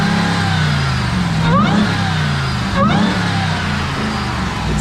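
The supercharged 6.2-liter Hemi V8 of a 2021 Ram 1500 TRX idles with a deep rumble, then revs sharply twice, each rev rising and falling, loud and close.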